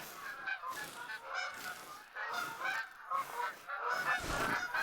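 Geese honking in the hunting game theHunter: Call of the Wild, a steady series of loud, repeated calls running through the whole stretch with no talking.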